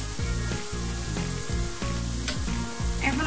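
Boondi droplets of gram-flour batter sizzle steadily in hot oil while a spoon stirs them, producing a continuous close frying hiss broken by rhythmic scraping strokes roughly every half second.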